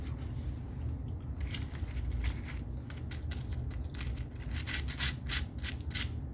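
Crisp crunching and biting on fried onion and potato fritters (bhajiya), a run of sharp crackly bursts close up over a steady low background hum.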